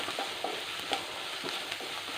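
Curry leaves and aromatics sauté softly in a pan, a faint, steady sizzle broken by a few light scrapes and taps of a spoon, brief and alone.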